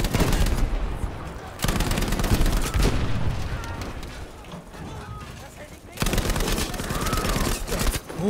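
Battlefield V gunfire crackles in fast bursts of close shots with heavier booming reports, pausing briefly mid-clip before another loud volley, with a voice talking faintly underneath.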